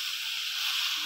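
Turul data chorchori, a Bengali creeper-stem dish with fish head, being stirred in a pan, giving a steady close hiss of sizzling throughout with a brief louder scrape of the spoon near the end.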